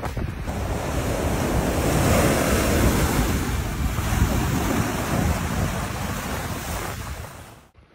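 Baltic Sea waves rolling ashore at Salacgrīva, a steady loud surf wash mixed with heavy wind buffeting the microphone, continuous for several seconds before cutting off abruptly at the end; no talking.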